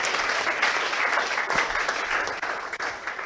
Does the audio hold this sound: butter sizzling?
no